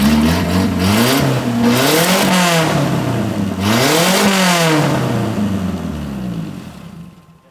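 Old carbureted shop truck engine with a large exhaust leak, revved hard twice in long sweeping rises and falls, loud and close with a raspy note, before fading as it drops back down.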